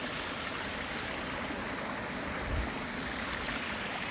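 Heavy rain pours down outdoors in a steady, dense hiss that continues unbroken from start to finish, with no voices and only a brief low thump partway through.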